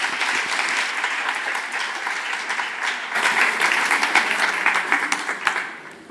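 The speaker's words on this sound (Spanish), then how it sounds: "Un aplauso para Patri." An audience claps steadily in sustained applause introducing a science talk speaker, swelling louder midway before tapering off at the end.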